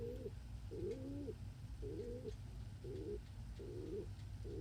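A pet bird resting on a blanket gives soft repeated coos, about five low rounded phrases at an even rhythm, faint and close in a quiet room.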